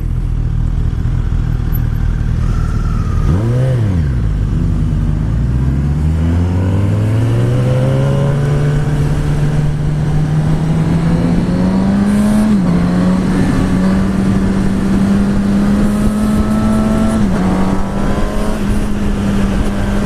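A loud 2016 Suzuki GSX-S1000 sport motorcycle engine revs up and climbs steadily in pitch, holding a high whine with brief shifts, close and continuous with no talking.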